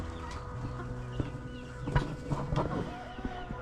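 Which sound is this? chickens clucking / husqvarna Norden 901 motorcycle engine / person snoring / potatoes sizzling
chickens clucking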